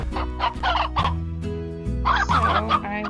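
Chickens in the Slime Rancher video game, a busy run of loud, throaty clucks and gobbling calls repeating close together without pause.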